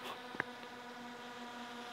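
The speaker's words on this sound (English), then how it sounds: "the bee" A bee buzzing faintly outdoors, a thin steady hum with a brief brighter swell as it passes close, otherwise quiet with no talking.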